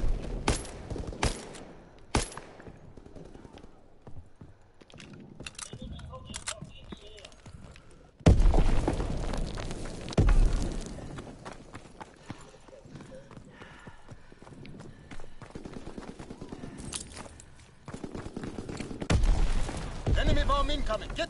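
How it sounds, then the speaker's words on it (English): Explosions and gunfire bursts in a Call of Duty match, loud blasts at intervals against a busy, noisy battlefield background. "the explosion effects look really good"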